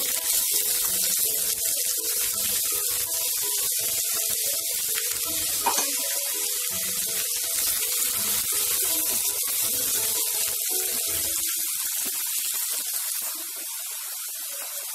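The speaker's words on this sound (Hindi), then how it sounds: "अभी प्याज को हल्का सुनहरा होने देते हैं।" Chopped onions fry in a pan with garlic, ginger and green chili for a kohlrabi curry, giving a steady, close, bright sizzling hiss throughout with no talking.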